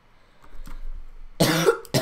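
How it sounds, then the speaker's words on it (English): A quiet stretch with faint low rustling, then a burst of harsh, throaty coughing close by, pausing briefly before another cough starts. "Excuse me, guys. I have a cough."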